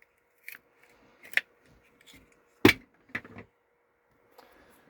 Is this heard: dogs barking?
no